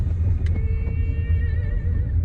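A car engine rumbles steadily from inside the vehicle while driving on the road, a loud continuous low drone with faint tonal whine above it, no voices.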